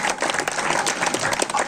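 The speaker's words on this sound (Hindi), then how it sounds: "ताली तो बजा दो यार आपको।" An audience claps in a brief, dense burst of applause that fills the short moment, loud and close, with a voice faintly underneath.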